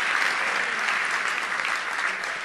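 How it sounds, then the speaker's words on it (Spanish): Steady, dense applause from a church congregation fills the space for a couple of seconds, loud and continuous with no pauses. "dale un aplauso al Rey bendito"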